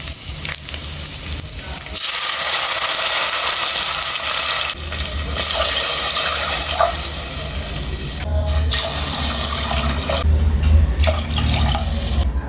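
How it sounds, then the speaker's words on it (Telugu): Water pours steadily into a cooking pot of rice with a continuous rushing splash, close and fairly loud, pausing briefly a couple of times. "వాటర్ వేసేద్దాం"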